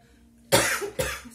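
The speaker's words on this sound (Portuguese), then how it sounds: "Deu uma tosse, minha garganta tá seca." Two close, abrupt coughs in quick succession, the second slightly weaker, after a moment of near silence.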